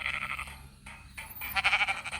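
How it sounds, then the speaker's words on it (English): Sheep bleat on a farm during the breeding season, several wavering, nasal calls close by that come in bursts, with a short lull between them and a louder run of bleating near the end. "So he is the one who will be mating these 2 beautiful sheep."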